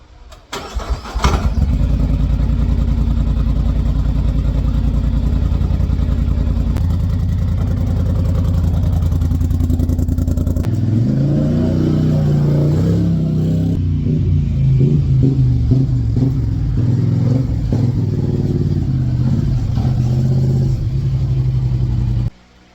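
A 2023 Polaris Sportsman Highlifter 850 ATV, just fitted with a new rear differential and axles, rumbles loudly and steadily up close while being ridden, its engine note dropping and settling into a lower drone partway through.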